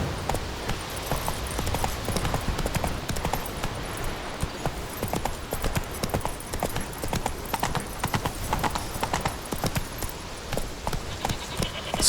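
Roach, Geralt's horse in The Witcher 3, trots along steadily, hooves clip-clopping in a quick even rhythm across the whole stretch, close and clear over a soft ambient game backdrop.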